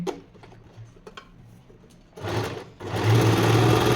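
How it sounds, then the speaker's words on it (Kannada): An Usha sewing machine stitching a blouse seam, faint ticking at first, then bursts of fast, loud mechanical whirring with a brief pause between runs. "ಈಗ ನಾನು ಬ್ಲೌಸಿಗೆ ಜಾಯಿಂಟ್ ಮಾಡ್ತಿರೋದ್ರಿಂದ ಲೆಫ್ಟ್ ಹೊಲಿಯಿರಿ"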